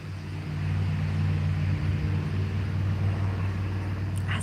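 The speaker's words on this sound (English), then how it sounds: "That's a loud truck." A loud truck rumbles past outdoors near an animal enclosure, its heavy low engine drone swelling quickly and holding steady as a close, continuous roar with no talking.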